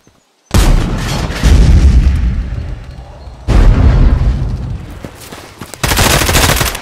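Loud booming gunfire and artillery-like blasts come in heavy bursts, separated by brief decaying echoes, in a toy army men stop-motion battle.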